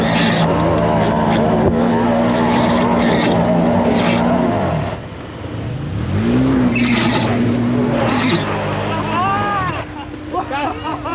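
Side-by-side UTV, likely one of a RZR Turbo, KRX or Maverick X, revs hard while its tires claw and spin up a snowy hill, a loud continuous engine drone rising and falling with brief dips, with voices talking over it.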